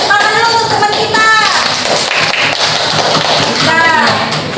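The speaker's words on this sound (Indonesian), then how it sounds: "Kita tepuk tangan dulu untuk teman kita." A classroom of children claps for a classmate, a dense burst of rapid applause with children's voices calling out over it throughout.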